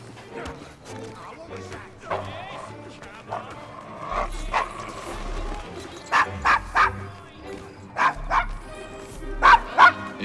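Dog barking repeatedly in Assassin's Creed Syndicate, in the rough Devil's Acre district, sharp loud yips in bursts through the second half, with people talking around them.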